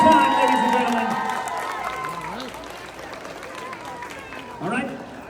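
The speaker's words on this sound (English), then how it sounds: "Contestants, let's give them a huge round of applause one more time, ladies and gentlemen." A crowd at a Pokemon and cosplay expo cheers and claps for cosplay contestants, loud whoops and shouting that fade into steady applause, with a fresh yell near the end.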